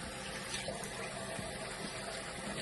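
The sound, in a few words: rinsing melting balm off face with water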